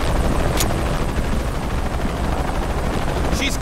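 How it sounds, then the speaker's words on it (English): A helicopter in the video game Shadow of the Tomb Raider roars close and loud without pause, its dense low rotor thump steady throughout, with a couple of faint sharp clicks on top. "Helicopters."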